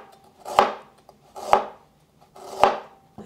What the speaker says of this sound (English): I have about a thumb-sized piece of ginger that I'm slicing up